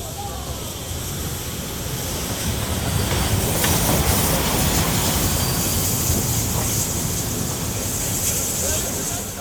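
Steady rumbling of a train carriage running on rails, a continuous broadband roar with faint clattering, close and fairly loud throughout.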